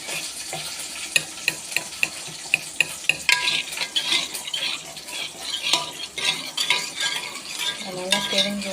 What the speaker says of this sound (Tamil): தாளிக்க கடுகு, கருவேப்பிலை,